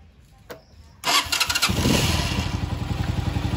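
A motorcycle engine with an ignition fault that keeps it running with the key off starts after a couple of clicks and settles into a steady, loud, throbbing idle close by.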